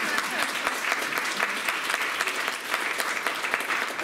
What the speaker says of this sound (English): That's right, you can clap